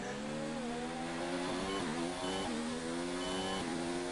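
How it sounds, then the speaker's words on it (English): Formula 1 car engines in a racing video game, Mexican Grand Prix, roar and rev steadily with shifting pitch, several passing sweeps heard faintly at low volume. "Oh, I just heard your cars roar past me."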